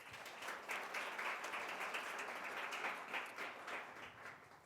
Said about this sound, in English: Can we clap it up for both of them?